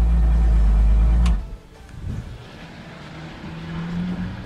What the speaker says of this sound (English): So we know the engine started, so we know that our starter's good